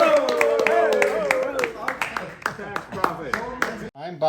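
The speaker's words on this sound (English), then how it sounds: "I need people clapping and stuff" A few scattered claps from an audience at a talk on a new tax bill, irregular sharp slaps spread across several seconds beneath a voice that keeps speaking over them.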